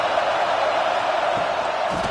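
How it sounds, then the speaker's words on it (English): A football stadium crowd roars in a steady, dense wash of cheering and noise, loud and continuous throughout with a few rising swells near the end. "This crowd ready to make its presence known"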